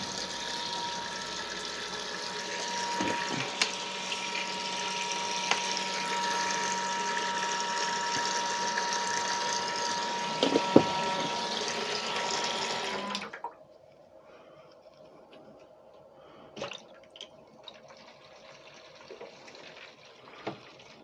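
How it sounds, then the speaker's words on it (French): Water drains from a camper van sink through a pipe, a steady close rushing flow with faint clicks that cuts off partway, leaving a quiet trickle and occasional small knocks. "c'est quand même rigolo de voir après l'eau qui s'écoule"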